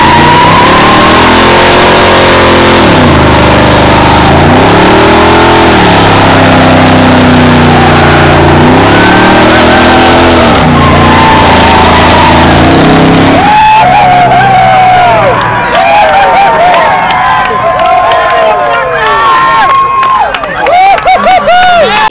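A car tears away at speed with its engine loudly revving and rising in pitch, followed by sweeping tire-like squeals, while a crowd cheers in the background.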